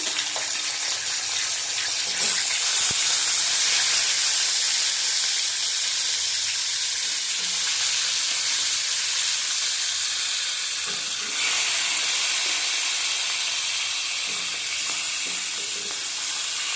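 Katla fish pieces frying in hot oil in a wok, prepared with fenugreek tempering, give a loud, continuous hissing sizzle that holds steady for the whole stretch.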